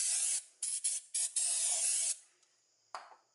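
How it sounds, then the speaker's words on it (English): Brake cleaner hisses from an aerosol can onto the front wheel hub of an Isuzu MU-X, D-Max or Colorado. One longer spray is followed by several short bursts, then a sustained blast and a final brief spritz. "Now I'm just going to use some brake cleaner, just get all of that residue out"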